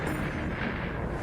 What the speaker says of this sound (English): Every time there's an explosion, I can feel the shock wave and the ground shaking.